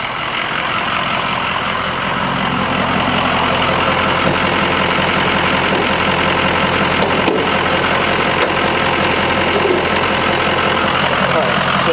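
A Ford Power Stroke diesel idles with the hood raised, giving a loud, steady, close rumble with a faint knocking clatter that holds evenly throughout with no break.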